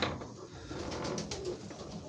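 Pigeons coo softly in a loft during breeding season, low throaty murmurs rolling on continuously, fairly faint and with no talk.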